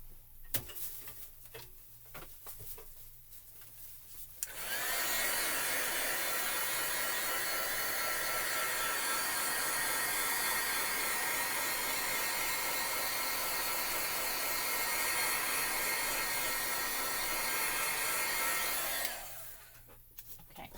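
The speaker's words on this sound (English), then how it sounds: "I'm just going to take my heat tool real quick and zap this." A heat tool starts after a few quiet handling sounds and blows a loud, even rushing whir for about fourteen seconds to dry marker on paper, then shuts off.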